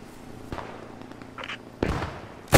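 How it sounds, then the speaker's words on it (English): A few sharp gunshot bangs ring out in a WW2 shooter video game, spaced irregularly: one at the start, one midway and a louder burst at the end, over a low game-ambience hum. "Drew, why am I getting shot from these buildings?"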